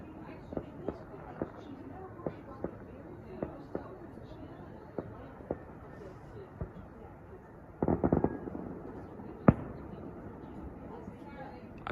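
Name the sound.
fireworks exploding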